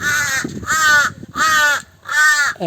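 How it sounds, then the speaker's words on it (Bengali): A crow caws four times in a steady rhythm, loud and close, harsh calls separated by short pauses. "এই যে কাক কাকটা কিন্তু কিউট আছে"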